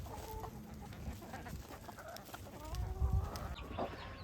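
About forty backyard chickens cluck and murmur while pecking at whole-food layer feed, with overlapping soft clucks and occasional louder calls close by, continuous and busy throughout.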